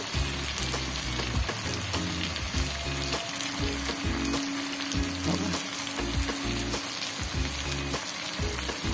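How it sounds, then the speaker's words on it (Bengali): Spice paste frying with fried potatoes for chicken kosha, making a dense, loud, constant sizzle with stirring scrapes and taps heard close up. "ভেজে রাখা আলুগুলো দিয়েও কিন্তু মশলাটাকে আরেকবার কষিয়ে নেব।"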